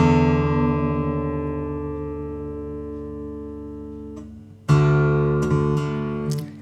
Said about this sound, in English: Lower it until you hear a harmonious octave.